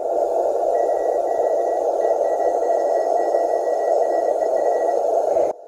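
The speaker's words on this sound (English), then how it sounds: "that's a bit of Morse code on the ham band." Morse code picked up on a ham band through a shortwave receiver: a thin steady tone with faint keyed beeps riding over a constant band of radio hiss, cutting off abruptly near the end.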